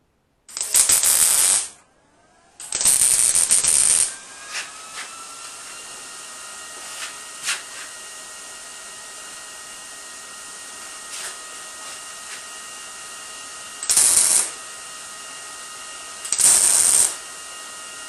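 Tack welding the corners of a steel blacksmithing guillotine tool, with loud bursts of crackling arc noise, a short one followed by a longer one, then quiet with faint clicks and two more short bursts near the end.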